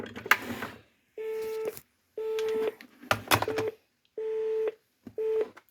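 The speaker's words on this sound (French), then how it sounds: "Je fais sonner le premier correspondant." An S63 emergency call post rings through to the first correspondent, sounding a repeated steady electronic ring tone in regular bursts, interleaved with clicks and short noisy bursts, fairly faint.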